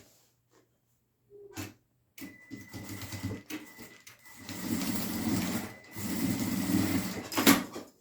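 A sewing machine running in short bursts while stitching a crossbody bag, its steady mechanical whir and needle rattle starting and stopping close by, with brief pauses between runs.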